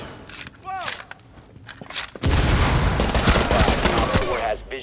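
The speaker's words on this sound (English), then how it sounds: "Gunfire in the basement." Gunfire in Rainbow Six Siege: a short early shot, then a dense, loud burst of automatic fire in a basement that rattles for about two seconds, with game radio chatter around it.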